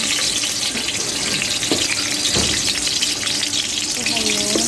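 Garlic sautéing in a pan while cooking ginataang alimango, giving a steady, close sizzle and hiss throughout with a few soft clinks over it.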